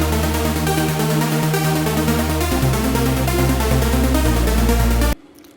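A dense synthesizer lead plays over a deep sustained pad that shifts to a new low note midway, loud and full, before cutting off abruptly near the end.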